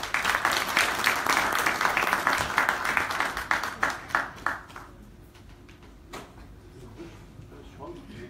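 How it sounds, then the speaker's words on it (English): Audience applause at a formal statistics conference, a short burst of clapping that is fairly strong at first, thins out after about four seconds and leaves only a few scattered claps in a quiet hall. "Please give him a huge round of applause."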